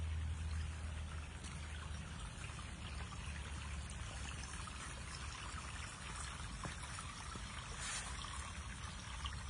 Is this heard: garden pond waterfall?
yes